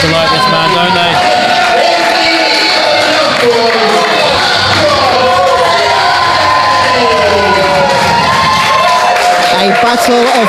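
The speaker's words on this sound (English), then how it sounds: "And just listen to this crowd." A wrestling crowd at a student-versus-teacher pro wrestling bout roars and cheers steadily for the full stretch, a dense, loud wall of shouting voices with rising swells and no pauses.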